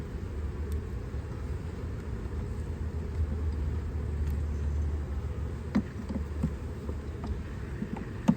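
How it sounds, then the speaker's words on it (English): Honey bees buzzing steadily in an open beehive during an inspection, a dense continuous hum close by with a few louder individual bees passing near the end. "There's a fight going on here, and I think maybe one of these bees got in the wrong hive."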